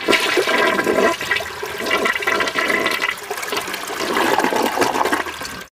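A toilet flushing close by, a loud continuous rush of water lasting several seconds that swells again near the end before cutting off.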